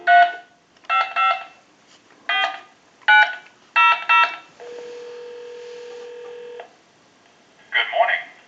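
A Spirit of St. Louis wooden wall telephone sounds a steady two-second tone while a call is dialed, set between stretches of someone talking close by.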